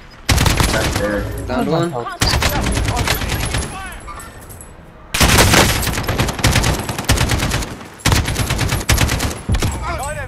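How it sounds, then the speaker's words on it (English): Bursts of automatic gunfire and rapid shots in a Call of Duty Modern Warfare Warzone match, loud and repeated in several long volleys, with players talking over the shooting. "Someone shooting at us."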